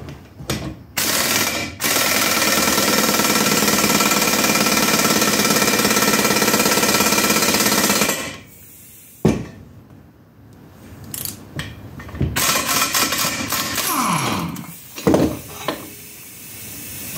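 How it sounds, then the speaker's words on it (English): An air tool driven by a compressor hammers in a loud, continuous close burst for several seconds on motorcycle drag pipes for an Ironhead, followed by shorter intermittent bursts, with no one talking. "I'll just turn the compressor on more."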